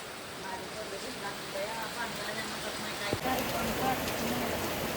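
Rain falls outdoors as a steady, even wash of fine patter that holds for the whole stretch, with a single sharp knock partway through and no clear talk above it.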